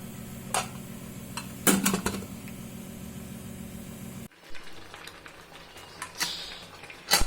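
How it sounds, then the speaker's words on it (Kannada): A pressure cooker lid is set on a pot of greens being cooked, with a few sharp metallic clanks and scrapes early on, then quieter kitchen rustling and faint knocks nearby. "ಈಗ ಕುಕ್ಕರ್ ಲಿಡ್ ಹಾಕಿ ಬೇಯಕ್ಕೆ ಬಿಡೋಣ."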